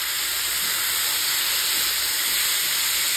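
Crabs coated in salt and turmeric fry in smoking-hot oil for a spicy Bengali crab curry, giving a loud, steady sizzling hiss that runs unbroken throughout with no voices.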